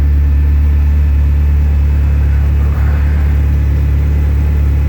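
A first-generation Mitsubishi GSX car engine idles close up, its steady low rumble holding an even, unbroken level throughout with no voices.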